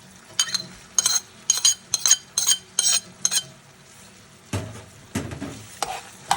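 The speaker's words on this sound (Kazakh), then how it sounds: "Енді қазір осыға жуасын саламыз." Chopped onion is stirred into minced meat frying in a pan, a series of rhythmic spatula scrapes and clinks over a low sizzle, with heavier clattering stirs near the end.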